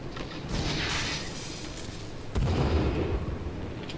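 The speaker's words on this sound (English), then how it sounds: "How many grenades did you throw?" Grenade explosions in the survival game Sons of the Forest: a rumbling blast swells at about half a second, then a second, heavier booming burst hits sharply near the midpoint and rolls on, loud and close with no talk.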